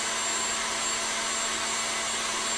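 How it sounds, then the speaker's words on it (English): An electric whisk whips meringue for a Baked Alaska, giving a steady, loud motor whine with a constant high hum that runs unbroken throughout. "So you can see that's whisking up really nice in there now."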